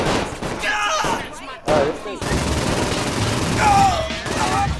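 Gunfire in the video game Saints Row 4, bursts of rapid shots mixed with game effects and a voice speaking over the action, dense and loud throughout.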